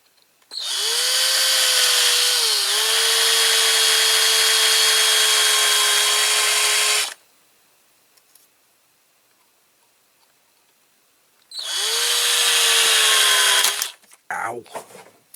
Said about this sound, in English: Just the drill moving.